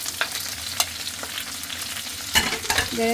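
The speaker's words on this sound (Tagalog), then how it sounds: "lagay ko na yung onions and garlic" Onions and garlic sautéing in hot oil for pancit guisado, with a steady sizzle under intermittent stirring clatter and a louder burst of frying near the end as more goes into the pan.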